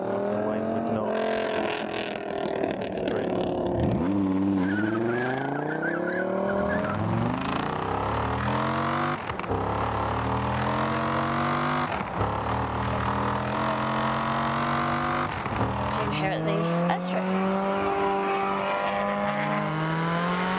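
Race car driving on an airstrip during real-life recording for Forza Horizon 4, its engine repeatedly revving up through the gears with rising and falling pitch, loud and close, under occasional talk.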